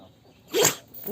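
A small pitbull dog gives a single short, sharp sneeze in a quiet room in a Turkish village, faint and close.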